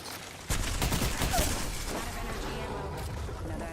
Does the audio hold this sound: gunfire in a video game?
yes